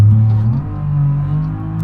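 A BMW E34 525 engine straining in BeamNG Drive, a low, steady droning rumble that holds without revving up, heard alone and fairly loud.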